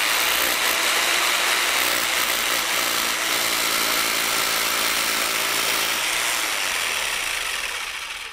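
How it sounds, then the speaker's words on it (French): Power drill boring into a white wall built of hollow concrete blocks, a loud steady grinding whir that shifts pitch partway through as the bit breaks into a hollow cavity, alone without speech. "on va percer pour savoir en quoi il est fait"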